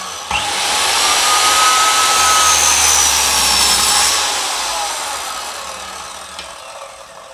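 A Ryu RMS 180 miter saw spins up with a rising whine, holds a loud steady motor roar for a few seconds, then winds down gradually as the blade coasts to a stop.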